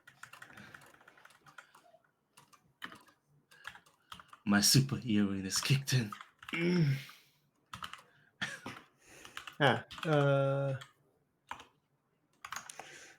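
Typing on a Windows computer keyboard, a patter of soft clicks running under a man's conversational speech throughout.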